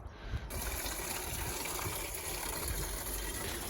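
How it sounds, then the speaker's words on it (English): Water gushes steadily while a garden barrel is emptied outdoors, a continuous close rushing flow that starts abruptly and holds at an even level without pause. "I'm just trying to empty that barrel because Henry put it on and put some water in there"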